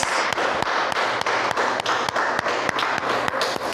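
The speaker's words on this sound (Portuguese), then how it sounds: "Pode aplaudir o Senhor, aleluia." A church congregation claps in a steady rhythmic beat, loud and close, with regular sharp claps over a broad wash of applause throughout.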